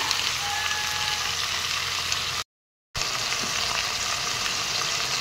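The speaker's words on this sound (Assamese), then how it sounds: "ইয়াৰ ওপৰত এতিয়া মাংসখিনি দি দিলোঁ। মাংসখিনি এফালৰ পৰা এনেদৰে লৰাই গ'লোঁ" Meat fries in a pan with a constant close sizzle and stirring, briefly cut off by a moment of silence before the frying resumes; no talking.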